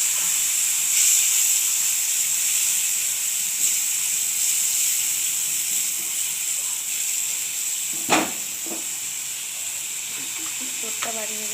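Ground onion paste sizzling in hot oil left from frying fish for a fish curry, a steady close hiss with a brief clatter near the end and no talking.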